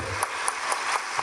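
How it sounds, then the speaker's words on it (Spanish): Audience clapping at a book fair closing its first day: a steady wash of hands with evenly spaced sharper claps standing out, fairly close and without talk. "Fuerte el aplauso para Darío Stanraiver."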